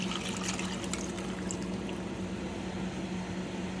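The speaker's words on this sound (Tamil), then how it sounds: "இப்போ நான் வந்துட்டு தாளிப்பு ஊற்றுறேன்" A tadka of fried onions is poured into a fish curry, making a dense, even hiss and rush of liquid that runs unbroken from start to finish.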